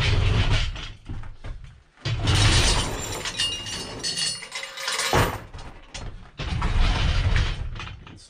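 A Woodland Mills sawmill track section slides back along its steel trailer, giving loud metallic scraping, grinding and clanking in bursts with short pauses. No one speaks.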